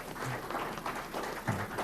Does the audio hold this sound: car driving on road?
no